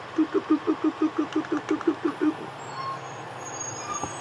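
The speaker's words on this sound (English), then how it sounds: "here comes that loud truck" A loud truck engine throbs in a rapid, even stutter of about a dozen pulses, then settles into a lower rumble that fades away.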